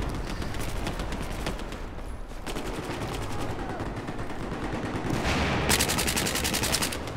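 Rapid bursts of gunfire from a shooting video game, dense repeated shots running nearly nonstop and loudly throughout, with a sharper, brighter volley near the end.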